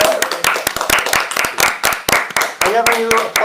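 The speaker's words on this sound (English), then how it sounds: "I never knew applause could come through the internet like that." Clapping from a small group during a Facebook Live university Q&A, sharp separate hand claps in an uneven burst, close and fairly loud, with a voice briefly speaking over them near the end.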